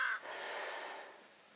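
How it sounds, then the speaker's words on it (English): A single crow caws on misty, rainy Dartmoor, one short, rasping call heard faintly at a distance over quiet background air. "It's like a crow or something."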